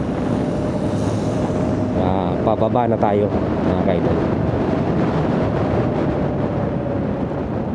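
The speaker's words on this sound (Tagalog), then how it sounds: "Sa tingin ko okay pa rin talaga yung motor natin, okay pa rin naman yung tunog." A boat motor drones steadily throughout, loud and constant with wind noise, while someone speaks briefly over it.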